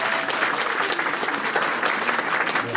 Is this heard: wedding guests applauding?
yes